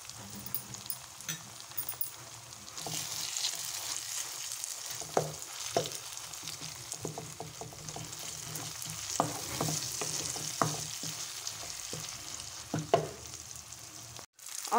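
Tomato masala fries in oil in a pan with ginger garlic paste while it is stirred for a fish curry, giving a continuous close sizzle broken by irregular scraping and tapping strokes with no voices.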